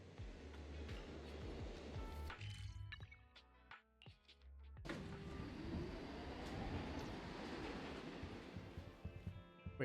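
Subway train rumble in the video game Zenless Zone Zero: a continuous low, rolling roar of rail travel with a brief quieter stretch of tonal chimes midway before the rumble resumes, steady and moderately distant.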